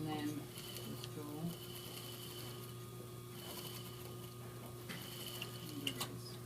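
A sewing machine running a couple of stitches and tacking a sample seam, a faint mechanical whir with light ticking beneath a steady hum.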